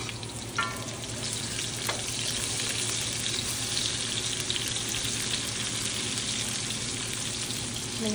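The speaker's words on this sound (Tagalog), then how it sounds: "Pwede na natin igisa yung ating luya tsaka sibuyas." Ginger and onion sauté in a hot pan with browned pork, a steady loud sizzle carrying on throughout, with a few faint clinks and stirring scrapes near the start.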